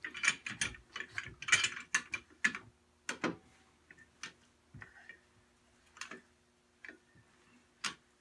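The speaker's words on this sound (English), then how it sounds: "If you're at home doing it, it's probably easier to do it with a floor jack." A floor jack is pumped to raise a car, producing close ratcheting clicks and clanks, rapid at first and then spaced out into single ticks, with no talking.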